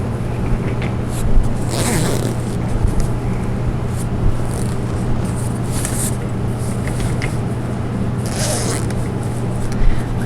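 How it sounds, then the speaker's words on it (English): Several quick zipper pulls on a bassinet rasp at irregular intervals over a constant low mechanical hum, close and fairly loud. "So here's the start of the next zipper"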